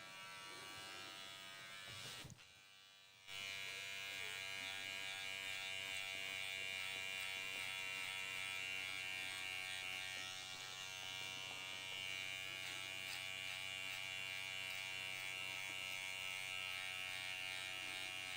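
Electric hair clipper fitted with a number 3 guard buzzing steadily while cutting a long pixie haircut, a continuous close hum that drops out briefly near the start and then runs on unbroken.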